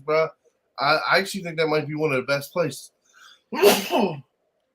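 A single sharp sneeze bursts out near the end, loud and close, after someone talks casually in a sports talk show setting.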